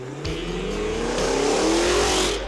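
A 2023 Cadillac Escalade-V SUV revs its loud exhaust, the engine note climbing steadily in a strong, close roar that holds for a couple of seconds before easing off, with no voices.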